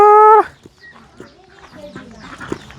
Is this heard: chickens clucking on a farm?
yes